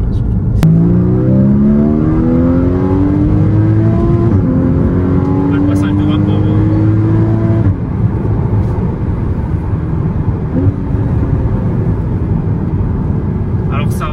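A Porsche Cayman S 981 with a manual gearbox accelerating hard: a loud engine note climbs steadily in pitch through the gears from inside the cabin, with a shift and renewed rise, under someone talking.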